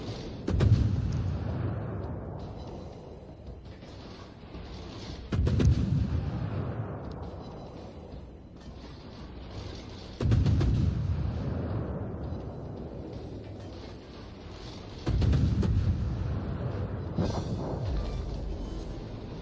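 Armor-piercing shells fired at the cruiser Indianapolis in a naval warship game: four heavy booming salvos at roughly five-second intervals, each a loud low blast decaying into a long rumbling tail.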